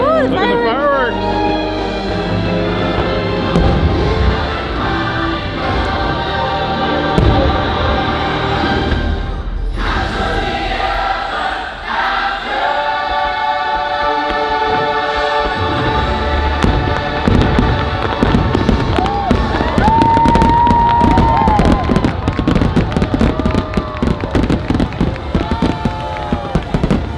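Fireworks explode over the Magic Kingdom at Walt Disney World in a loud, continuous barrage of booms and crackles, with a busy crowd murmuring and chattering nearby.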